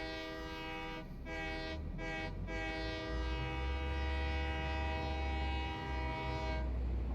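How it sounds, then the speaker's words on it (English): Train horn in a factory-building video game, a long steady harmonic blare sounding loud and close for several seconds with a low rumbling engine bed underneath and brief gaps, then cutting off near the end. "Best horn in the game, right there, the train."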